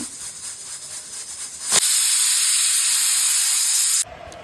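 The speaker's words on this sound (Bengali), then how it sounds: "এইবারে মা প্রেসারে দিয়ে দিচ্ছে সিটি মারার জন্য।" A pressure cooker full of jackfruit vents steam in a loud, steady hiss that bursts on suddenly, holds for about two seconds and then cuts off sharply, with a softer background hiss before it.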